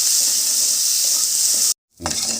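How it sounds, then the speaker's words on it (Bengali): Salted, turmeric-coated crabs fry in hot oil with a loud, dense hiss that cuts off abruptly, goes silent for a moment, then resumes more softly. "এবার আমি এটাকে একটু লাল করে ভেজে নেব"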